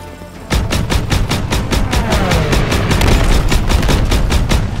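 Rapid bursts of gunfire in the WWII shooter Call of Duty WWII, loud and close, firing in a fast regular rhythm after a brief quiet start.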